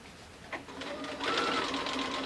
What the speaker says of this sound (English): Back stitching.